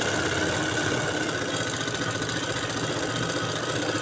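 Stitching along the edge of a churidar seam on a sewing machine, a steady close motor whir with fast, even needle pulses running unbroken throughout, with no voices.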